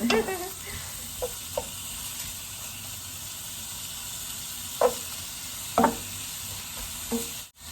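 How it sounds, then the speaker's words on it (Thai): Shrimp and mixed seafood stir-fried in a pan for dry sukiyaki give a steady close sizzle, with a few sharp scrapes and knocks of the spatula against the pan. "ผัดพวกนี้ก่อนนะคะเพื่อนนะคะ ผัดให้สุกมันจะไม่เหม็นคาวนะคะ"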